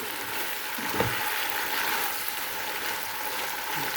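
Bottle gourd sautéing in a pan gives off a steady, even sizzle with a brief clatter of stirring, moderately loud and close, with no voices.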